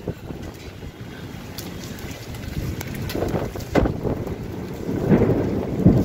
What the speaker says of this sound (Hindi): आप सुन सकते हैं बादलों की गजराहट